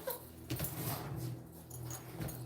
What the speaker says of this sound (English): What are you in there barking for?